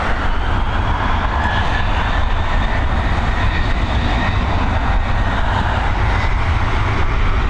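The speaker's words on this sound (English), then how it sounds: "Here we go, this Boeing 737 heading over to Liverpool." Boeing 737 jet on the runway at Dublin Airport, a steady loud broadband engine roar that holds evenly throughout with no talk.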